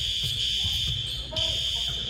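A steady, piercing fire alarm tone runs without a break through a basketball game, loud and constant, with faint court noise and voices underneath.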